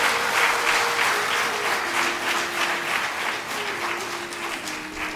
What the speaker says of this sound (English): So I invite a big round of applause from our students